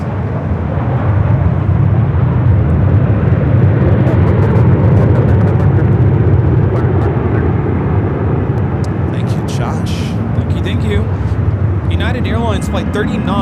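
An Emirates airliner on approach into LAX from the north, its jet roar loud and steady throughout, with people talking over it and chirping birds near the end.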